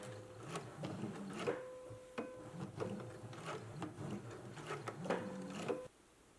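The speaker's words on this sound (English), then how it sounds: "So let's go ahead and do a basting stitch right here." A domestic sewing machine runs a basting stitch on a dress in short repeated bursts of rapid mechanical whirring and ticking, fairly close and quiet, with pauses between runs.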